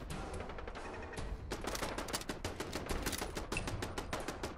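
Turret fire in Fallout 4 rattles out in rapid, steady bursts of sharp shots. A brief quieter lead-in gives way to continuous machine-gun volleys that fill the rest of the scene at moderate loudness, with no talking.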